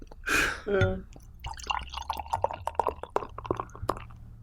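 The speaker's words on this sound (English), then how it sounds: "You'd see beer commercials on TV and like the sound of it being poured and that." Beer is poured into a glass close up with a gurgling, splashing start, then a settling fizz of bubbles and light drips. Faint talk sits beneath it.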